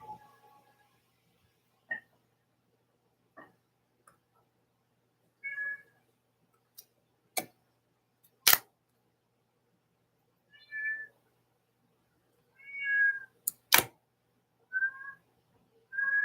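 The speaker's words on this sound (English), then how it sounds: "This cat just has so much to say." A cat meows in short separate calls at irregular gaps, moderately close in a quiet room, with a few sharp clicks between the meows.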